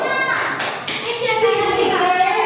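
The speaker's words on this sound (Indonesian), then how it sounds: "Kita tepuk wow untuk kelompok dua tepuk wow." Classroom children in a civics lesson perform the 'tepuk wow' clapping chant for a group, sharp rhythmic claps landing together between chanted young voices, close and lively.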